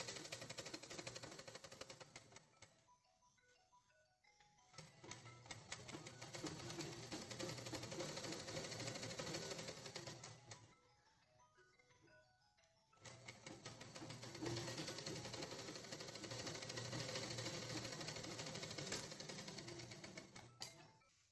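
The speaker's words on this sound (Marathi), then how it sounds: "ही बघा आपली ही किनारीची शिलाई मारून झालेली आहे." Sewing machine stitching along a folded double-layer cloth edge, running in long steady rattling bursts with short pauses between them, close and clear with no voices.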